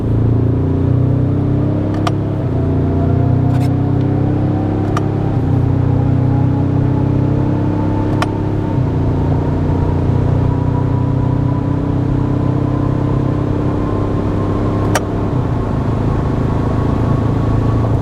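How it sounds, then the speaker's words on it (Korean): A 2023 Ford Ranger Raptor in sport terrain mode accelerates hard along a straight road, its engine note climbing steadily through several gear changes, loud and continuous from inside the cabin with no talk. "가속 페달만 전개를 해서 이 직선 구간 어느 정도 속도 영역까지 나오는지 테스트를 진행해 보도록 하겠습니다"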